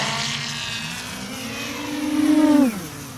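FPV racing quadcopter drone in flight near a tree, a high buzzing whine of its propellers that climbs into a louder throttle burst before dropping off sharply.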